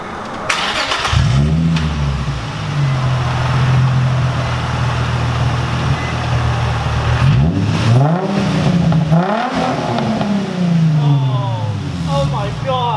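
A Nissan 350Z engine cranks and catches, settles into a steady idle, then blips through several sharp revs rising and falling, loud and close.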